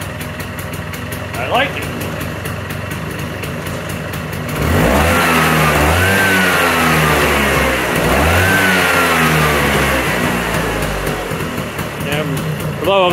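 A 1979 Vespa scooter engine runs nearby, idling and then revving up twice in strong rising and falling sweeps before settling back, with brief talk over it.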